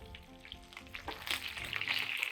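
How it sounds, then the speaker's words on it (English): Steak sears in a pan over very high heat, a dense crackling sizzle that swells louder over a couple of seconds, close and with no voices. "Then we do this finish sear. It's super high heat"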